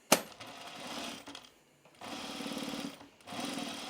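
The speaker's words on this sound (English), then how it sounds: "then we're going to stitch it down" Sewing machine stitching down a folded fabric binding, running in three bursts with brief pauses between them, a sharp click at the start.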